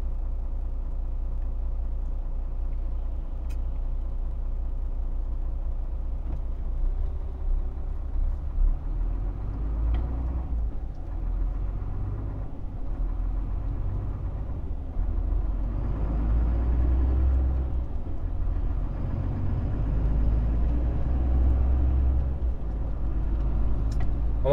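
A truck drives along a village road in the Pernik region, its engine a steady low rumble that holds throughout with slight swells in load and no talk over it.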